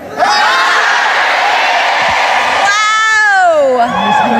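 A large convention crowd at New York Comic Con shouts a greeting together on cue, one loud unified yell that rises in pitch and rings out over general crowd noise in a big hall.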